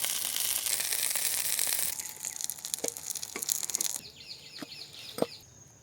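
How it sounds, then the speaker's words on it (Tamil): Chicken sizzles on a low-fire homemade grill, a steady close hiss that fades into sparse crackles and pops toward the end. "அனல் கம்மியாக வச்சு சிக்கனை நல்லா வேக வச்சுக்கலாம்."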